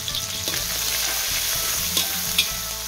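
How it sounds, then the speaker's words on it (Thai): Chili and garlic stir-fried in hot oil in a wok, a close and continuous sizzle with a few sharp scrapes and clinks of a spatula and no voices. "ผัดพริกกับกระเทียมให้หอมนะคะ"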